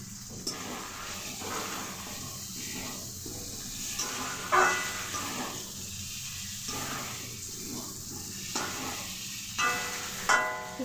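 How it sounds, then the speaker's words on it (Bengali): Garlic chicken with curry leaves frying in a pan, a steady hiss and sizzle that keeps going, with occasional louder crackles and stirring clinks, and no voices. "এইভাবে 10 মিনিট ভালো করে ভেজে নেব"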